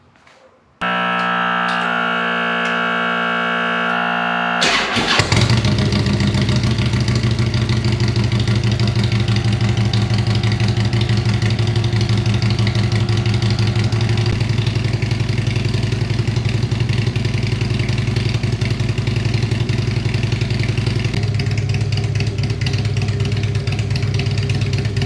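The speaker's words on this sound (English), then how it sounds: "Let's do a cold start." Motorcycle engine cranking and firing up from a cold start, then settling into a loud, steady, rumbling idle up close that runs on without a break.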